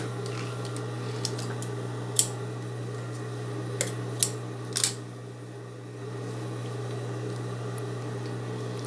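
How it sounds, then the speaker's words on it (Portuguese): A sewing machine runs steadily, stitching along the edge of a zipper. Its motor holds an even hum, broken by a few sharp clicks near the middle, with no talking. "E vai vir passando uma costura bem na beiradinha do zíper."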